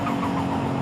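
A fully tuned stock engine of about 580 horsepower revs in a Forza Horizon 5 car, giving a brief, dense, steady growl with no talk over it.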